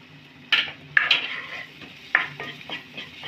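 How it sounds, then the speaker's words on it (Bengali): Palak paneer being stirred in a pan after kasuri methi and garam masala go in, with several distinct scraping, clanking strokes of a spoon against the metal pan over a soft sizzle. "ভালো করে মিশিয়ে নেব"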